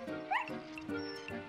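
A cartoon dog barks and yips excitedly several times in quick bursts, close and clear, with a whimpering edge between barks and no talking.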